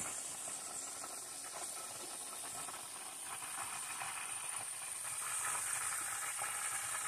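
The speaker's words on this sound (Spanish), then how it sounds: "friendo dos pescados" A soft, steady sizzle and hiss of two fish frying in a pan, with no talking over it.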